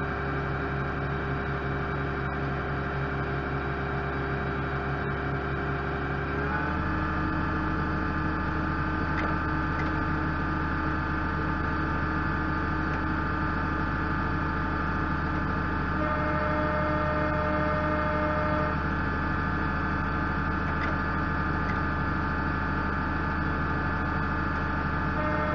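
Case IH MX Magnum tractor idling steadily while warming its transmission oil through a restricted remote valve, a constant low droning hum with a slight shift in pitch partway through and no talking.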